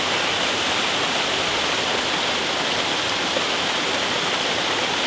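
Waterfall pouring in a steady, dense roar, loud and close with no pauses, filling the scene like heavy rushing water.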